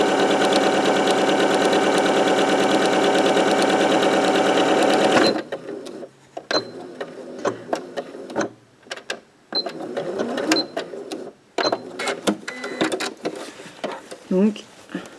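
A sewing machine runs a continuous loud straight-stitch seam for about five seconds, then gives way to scattered handling clatter while someone talks.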